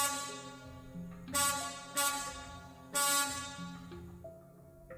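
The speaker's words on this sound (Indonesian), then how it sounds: "Tiba-tiba terdengar suara klakson di telinga mereka." A car horn honks in several sharp, loud blasts with ringing tonal layers, separated by short gaps, used as a spooky sound effect in a horror story set on a road.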